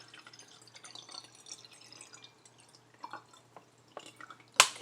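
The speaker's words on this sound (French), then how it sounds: "Je mets de l'eau dans le verre" Water trickles and drips into a drinking glass in soft, scattered splashes, ending with a sharp clink near the close.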